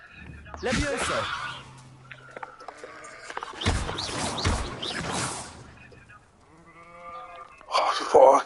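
A goat in the wizarding video game Hogwarts Legacy bleats repeatedly in short, wavering cries, close and fairly loud, while a player talks over it.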